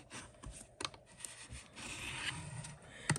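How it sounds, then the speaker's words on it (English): White cardstock, cut in half and scored, having its fold burnished flat by hand: soft close rubbing and scraping strokes with a few light taps, quiet and irregular, with no talking. "We'll go ahead and burnish this down."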